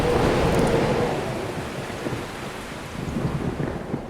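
Heavy rain pours steadily while a loud roll of thunder rumbles at the start and slowly fades under the downpour.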